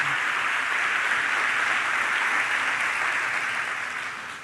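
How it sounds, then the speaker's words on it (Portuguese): A church congregation bursts into strong, continuous applause during a worship service, a dense wash of clapping that holds steady and then fades slightly at the end. "Vamos aplaudir ao Senhor bem forte mais uma vez."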